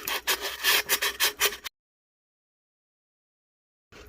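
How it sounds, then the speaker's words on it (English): Sanding the top rim of a craft tumbler, with a run of rapid back-and-forth rubbing strokes for about a second and a half, then silence, then a brief resumption near the end. "And I like to sand a little bit down at an angle beyond just the top rim."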